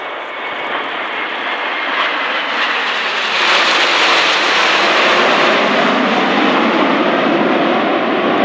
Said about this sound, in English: the Royal Air Force aerobatic team, the Red Arrows, in company with the Breitling Jet Team, the Patrouille De France, Frecce Tricolori and Patrouille Suisse.